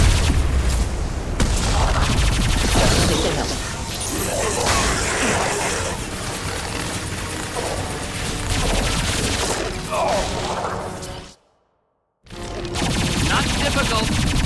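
Heavy gunfire and booms in a Mass Effect 2 battle on Horizon, rapid bursts and impacts layered under voices and effects, loud and continuous apart from a brief silent gap near the end.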